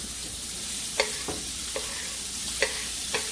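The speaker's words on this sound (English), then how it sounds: "So now let's saute these vegetables. The garlic and the green peppers." Garlic and green peppers sautéing in bacon fat for red beans, with a continuous sizzle punctuated by several sharp stirring clacks of a utensil against the pan at irregular intervals.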